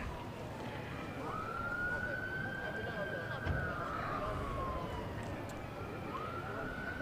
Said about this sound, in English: I hear another siren coming now, so hopefully that is an ambulance